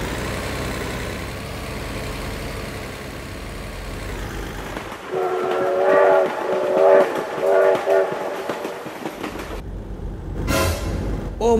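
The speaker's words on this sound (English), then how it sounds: "Oh my god, train!" A train passing in a video game, a loud rumbling approach with horn-like tones swelling in the middle, then cutting off abruptly near the end.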